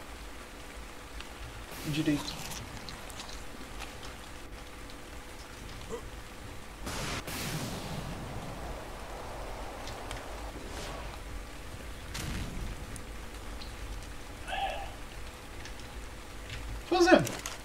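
Steady rain falls in Ark: Survival Evolved on the Genesis Part 2 map, a constant soft hiss under voices chatting and with a few brief louder knocks.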